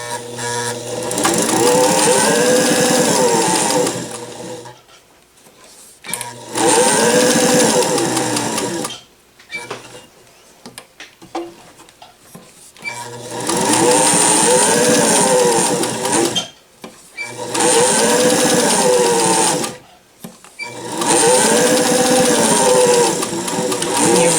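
A vintage Singer Fashion Mate 257 sewing machine stitches through layers of flannel in five loud, close bursts of rapid whirring, separated by short pauses with fabric handling.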